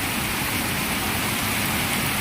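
Rain falls under an overcast sky as a steady, dense, even wash of noise, constant and close with no pauses.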